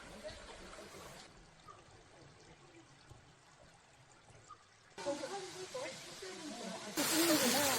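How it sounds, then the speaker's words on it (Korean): Jeolgu Falls, a small, slender waterfall in Juwangsan, gives a steady hissing rush of falling water that is soft at first and grows noticeably louder in the later moments. "절구폭포는 단아하게 흘러내리는 가냘픈 폭포라고 볼 수 있겠네요"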